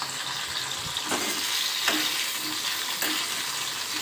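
Tomatoes and spicy green chillies frying in a little oil in a pan, a steady close sizzle with a few brief stirring scrapes, no talking.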